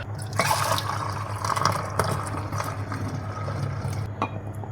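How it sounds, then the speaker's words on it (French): A litre of water poured over soy pulp in a kitchen sink, giving a close, continuous splashing gush with a few drips, steady for several seconds before tapering off. "Ajouter mon litre d'eau qui manque directement là-dedans, dans l'évier"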